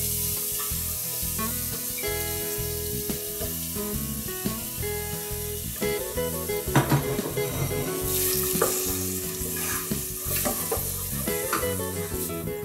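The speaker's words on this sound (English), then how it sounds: "I'm going to add our mixed onions over it" Mixed onions hitting hot oil in a pot, a dense, continuous sizzle and crackle that swells as they settle, close and fairly loud, with music-like tonal hum running underneath and no one talking.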